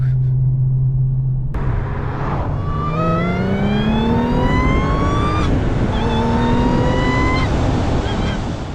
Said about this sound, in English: And that Supercharger now sounds absolutely amazing.